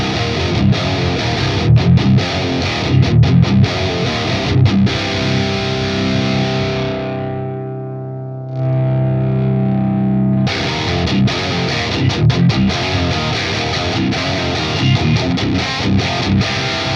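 High-gain distorted electric guitar through a Fortin Nameless Suite amp with both gain controls cranked, loud and chugging in choppy riffs, breaking into a brief sustained ringing chord midway before the heavy riffing resumes.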